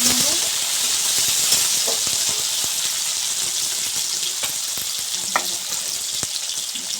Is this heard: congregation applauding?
no